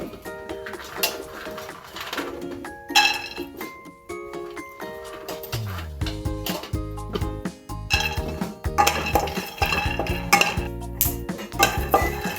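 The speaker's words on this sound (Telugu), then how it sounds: "ఇప్పుడు ముందుగా మనం పల్లీలు వేయించుకుందాం. దోరగా వేయించుకోవాలండి." Peanuts are dry-roasted and stirred in a hot kadai for a stuffed brinjal curry, producing a busy run of close, bright clinks and rattles from the utensil against the pan.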